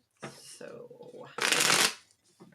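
Tarot cards are shuffled close to the microphone in a few quick riffling bursts, the loudest a sharp flurry near the end, with brief gaps between.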